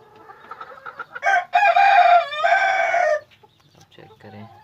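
Fancy chickens, including polish and silkie breeds, give a loud rooster crow lasting about two seconds, with softer clucking before and after it at close range.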